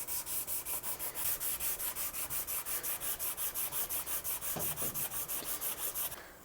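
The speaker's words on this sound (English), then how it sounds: "We're going to shift over to this hard sanding block. I've got 240 grit super Aslix paper on it." A 240 grit hard sanding block rubs back and forth across a curly maple guitar top, a steady rhythmic scratching of about thirty quick strokes, close and alone.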